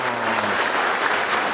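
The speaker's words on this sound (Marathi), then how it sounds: "तर ते टाळ्या कशा वाजवायच्या असतात दाखवा बरं जरा" A dense burst of applause from a political rally audience, many hands clapping together loudly and evenly, near and filling the whole moment.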